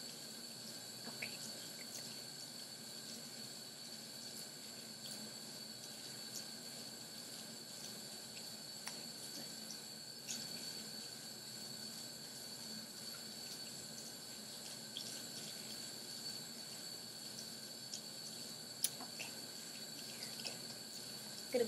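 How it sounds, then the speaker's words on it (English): A tap runs steadily in a nurse's office setting, a faint, even hiss of flowing water with occasional small clicks and drips, no voices. "I'm going to go ahead and turn the water off now."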